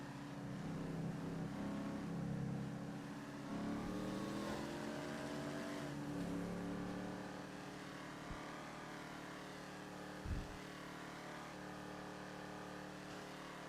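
Car engine revving hard in a roleplay video game: a sustained, rising and falling engine whine that eases off midway, followed by a couple of short thumps, with no talking.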